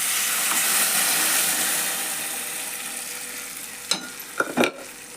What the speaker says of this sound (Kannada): ಈಗ ಬ್ಯಾಳೆ ಕುದಿಸಿಟ್ಕೊಂಡೇವಲ್ರಿ, ಈಗ ಈ ಒಗ್ಗರಣೆ ಒಳಗೆ ಹಾಕ್ತೇನೆ ನೋಡ್ರಿ